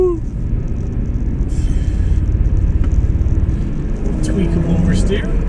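A budget winter beater drift car's engine pulls hard during test runs, a dense rumbling drone building in loudness with road and wind noise, close up inside the car.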